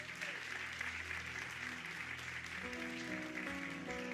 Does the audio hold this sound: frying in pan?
no